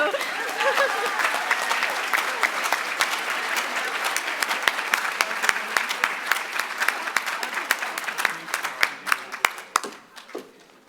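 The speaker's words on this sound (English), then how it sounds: "a big round of applause to all the young people in the room doing wonderful things for your community" An awards-ceremony audience applauds young community honorees at a cultural diversity awards event, steady dense clapping filling the room for several seconds before thinning into scattered claps near the end.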